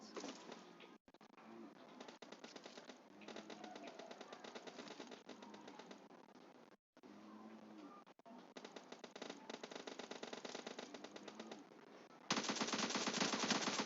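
Rapid automatic gunfire from a team deathmatch shooter game, bursts of close, loud shots in rhythmic runs with brief pauses between volleys, ending in a harsher sustained blast.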